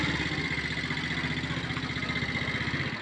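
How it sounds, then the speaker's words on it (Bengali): An engine-driven easy-bike three-wheeler idles close by, its small motor chugging in a steady low, rapid pulse with light rattling clatter throughout, no talk over it. "এই যে এটা ইঞ্জিন চালিত ইজি বাইক।"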